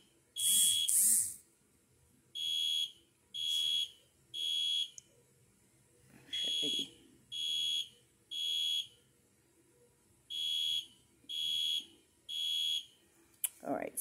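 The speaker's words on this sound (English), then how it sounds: "Somebody done set off the fire alarm." A building fire alarm sounds in repeated loud, shrill electronic pulses, each lasting about a second with short gaps between. A brief voice is heard near the start.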